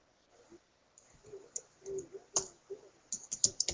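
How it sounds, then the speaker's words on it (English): Scattered keystrokes clatter on a computer keyboard, quiet and close, in irregular bursts that grow busier toward the end, with no talking over them. "I can hear you typing"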